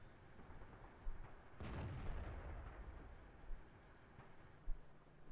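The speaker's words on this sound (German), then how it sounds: "Hat er den Schuss auf den T-34 probiert, aber ging daneben." A deep, booming tank cannon shot in World of Tanks, fired at a T-34, lands with a heavy rumbling blast, followed by a few fainter distant thuds against a quiet background.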